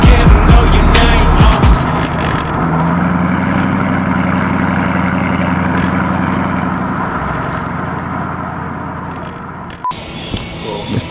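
A Mercedes E55 AMG with a supercharged 5.5 litre V8 gives a loud, close engine burst, then settles into a steady, throaty drone that fades slightly before a few sharp knocks at the end.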